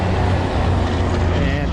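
Low rumbling road traffic passes by close to a parked vehicle with its doors open, a continuous engine drone blended with a voice talking over it.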